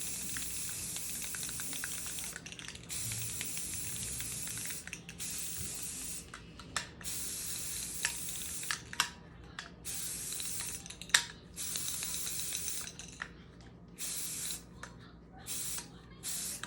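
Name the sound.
spray painting a tumbler with white primer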